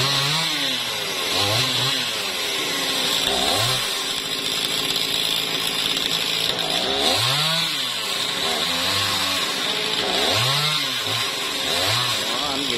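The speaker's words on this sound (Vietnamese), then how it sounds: "Cái mít này cưa củi luôn nha các bạn." A chainsaw cuts through a jackfruit tree, its engine snarling loud and steady throughout with rising bursts as the blade bites into the wood; people talk intermittently over it.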